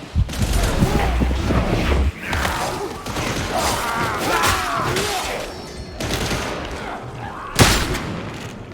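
Shotgun gunfire in the Warhammer 40k Darktide video game, a dense run of booming blasts and crashes amid chaotic combat noise, loud and close, with a sharp final blast near the end.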